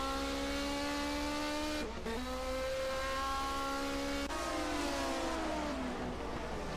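Two evenly matched 1979 DRM Division 2 race cars, among them a Ford Escort, howl past at the Diepholz airfield circuit, engines droning loud and steady with gear changes and a pitch drop as they sweep away.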